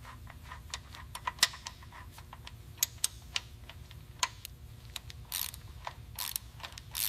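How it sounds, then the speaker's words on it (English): A torque wrench ratchets while tightening a fastener during fighter jet and ground vehicle assembly, giving a steady run of sharp mechanical clicks at irregular intervals over a low hum, with a few brief hissing bursts toward the end. "Let's use the torque wrench now."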